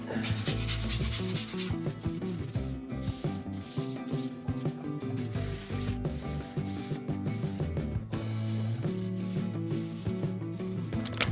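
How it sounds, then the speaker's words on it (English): A wet sponge rubs over a 3D-printed part in steady, continuous scrubbing strokes, heard close and fairly loud against a constant tonal background throughout. "Wet sponge, and I'm going to see if I can get some of it off."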